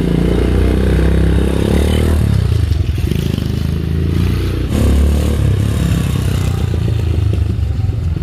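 A rebuilt Honda Dream motorcycle on a test drive, its loud single-cylinder engine revving and droning close by, with scraping and clattering mechanical noises and a dip partway through before it pulls again; no one talks.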